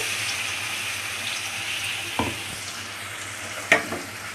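Ginger-garlic paste ground with cinnamon and fennel sizzles in oil with a steady, moderate hiss, punctuated by two sharp clatters of a stirring spoon against the pan.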